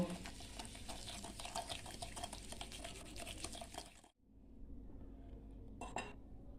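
Sugar being stirred into oil in a bowl for an eggless cake batter, a steady scraping swish that stops abruptly, then a quieter gap and one brief scrape near the end.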